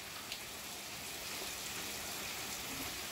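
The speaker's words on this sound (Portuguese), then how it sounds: "Barulho externo é que tá chovendo bastante" Heavy rain falls outside, a dense, steady hiss that fills the whole stretch without a break, fairly faint and with no talking over it.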